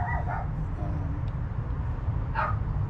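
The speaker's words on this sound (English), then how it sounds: "Sorry about the dog over there, the neighbor's dog." A neighbor's dog barking in the distance, a couple of short yips and woofs standing out faintly above a steady low hum.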